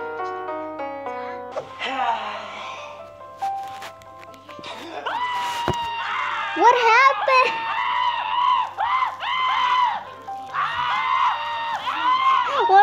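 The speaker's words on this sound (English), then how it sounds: "Why are they all screaming?" A crowd screams in repeated high, wavering bursts that swell and fade, with a chime-like tone at the start; one voice briefly speaks over them.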